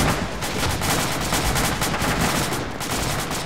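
Dense, continuous gunfire rattles through an Arma 2 beach-landing battle, with rapid overlapping shots and bursts at a steady, loud level and no pause.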